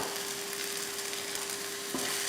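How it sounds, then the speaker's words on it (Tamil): Onions, green chillies and a handful of grated coconut sautéing lightly in a pan, a steady soft sizzle with faint stirring, and one small scrape near the end. "தேங்காய் போட்டு லைட்டாக வதக்கிடலாம்"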